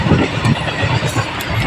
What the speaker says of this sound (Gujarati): અહીંયા ટ્રેન નીકળે છે. ક્રોસિંગ બંધ હતું એટલે આપણે ઊભા રહ્યા હતા.